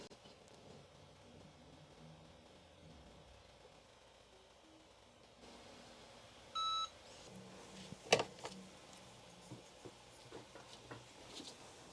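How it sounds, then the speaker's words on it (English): A kitchen timer gives a short run of clear electronic beeps while being set, near and distinct against a quiet room, with a sharp click or tap shortly after. "I'm just going to set my timer, give me something to go by."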